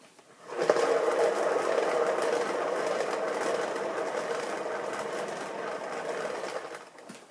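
An acrylic pour paint spinner's small motor starts abruptly and holds a steady mid-pitched whir for several seconds, close and alone, then cuts off.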